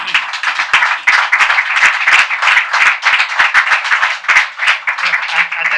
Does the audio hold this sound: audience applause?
yes